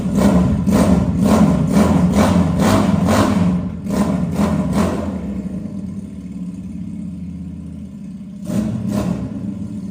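A Triumph Rocket 3 replica motorcycle idles and is blipped in a quick series of sharp revs, then settles to a steady low idle before one more pair of revs near the end.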